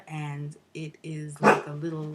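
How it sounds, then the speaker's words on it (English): A dog gives a short, sharp bark or two indoors, breaking in under a person's ongoing talk. "that's my dog"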